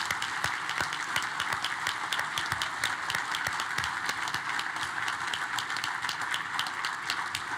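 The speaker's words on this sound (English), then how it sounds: "Let's give a round of applause to all of our retirees." Steady, continuous audience applause honoring retiring teachers at an evening awards event, dense and even throughout with individual claps crackling sharply on top.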